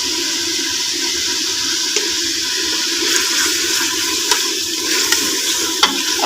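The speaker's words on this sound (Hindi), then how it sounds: "अब मैं अच्छे से चिकन की भुनाई करूँगी इस मसाले में।" Chicken pieces sizzle and fry in a spiced masala as they are stirred in a pot for a potato and egg curry, with a steady loud hiss and occasional scraping knocks from the spoon.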